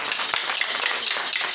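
A church congregation breaks into steady, dense applause, many hands clapping at once in a continuous, fairly loud wash.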